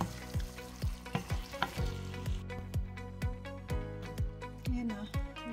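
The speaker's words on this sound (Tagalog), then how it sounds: "Haluin natin konti." Pork binagoongan with black pepper and paprika stirred in a sizzling pan, a spatula scraping and tapping against the metal in a steady, fairly rapid rhythm over a continuous frying hiss.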